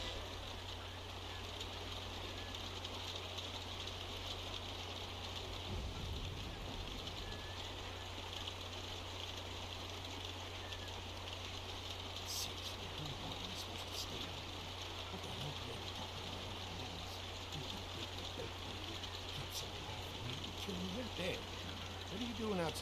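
Steady rain falls outside a barn in The Walking Dead game, a faint, constant hiss that runs unbroken for the whole stretch under a low hum.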